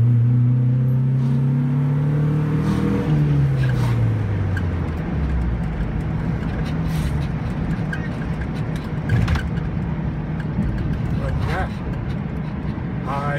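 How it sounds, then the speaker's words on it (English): A project truck engine idles, then revs and drops into a low, steady rumble as it drives under its own power, heard up close with people talking over it. "we got it running and driving under its own power"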